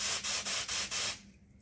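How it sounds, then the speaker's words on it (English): Several short hissing bursts of test aerosol sprayed at close range onto a Simplex smoke detector, five quick pulses in a steady rhythm before the spray stops and the room falls quiet. "we're just gonna set this off by spraying this detector"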